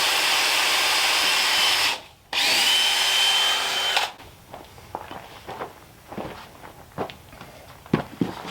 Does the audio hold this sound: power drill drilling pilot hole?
yes